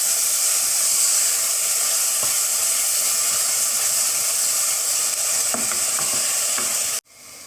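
Ground shallots sautéing in a pan, a loud steady sizzle and hiss with occasional stirring scrapes, ending in a sudden drop near the end.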